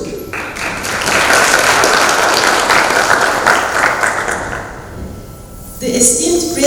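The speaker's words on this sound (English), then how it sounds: "I want a big applause for them too" An audience at the opening ceremony of a Turkish pediatric nephrology association meeting breaks into a loud, dense wash of applause that holds steady for several seconds, then thins out as a voice comes in near the end.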